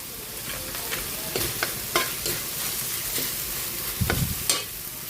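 Ground pork sizzles steadily in a hot pan for ginisang sayote, a Filipino sautéed chayote dish. A utensil scrapes and stirs at irregular intervals over the continuous frying hiss, loud and close, with no talking.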